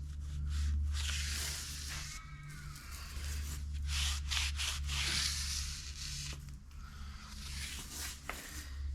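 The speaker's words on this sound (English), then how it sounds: "It's a little teardrop, well, a tapered stone that will fit into the dovetail. So that'll take off the burrs." A tapered stone rubs back and forth in steady abrasive strokes, deburring the dovetail of a Bridgeport milling machine column, close and continuous over a low machine-shop hum, with no one talking.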